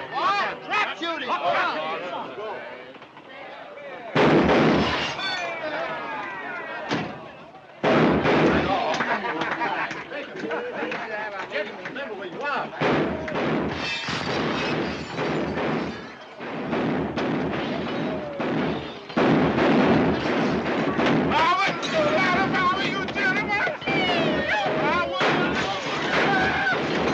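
Trap-shooting gunfire in a 1942 film, heard as loud, sharp shotgun blasts at irregular intervals, several booming reports mixed with continuous talking and voices throughout.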